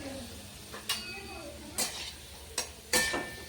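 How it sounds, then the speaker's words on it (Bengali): Potatoes with capsicum, carrot and onion fry in a pan, four sharp scraping stirs spaced about a second apart over a quiet, steady sizzle. "আলুগুলো ফ্রাই করছি"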